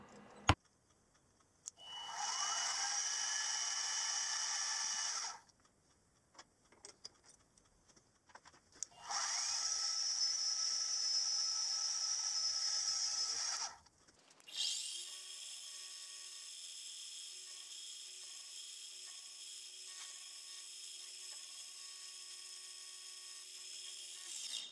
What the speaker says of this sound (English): The last machining operation is to drill and tap a 5BA hole for the grub screw to hold it onto the crankshaft